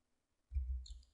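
A single soft mouse click in painting software, brief and close, after near silence.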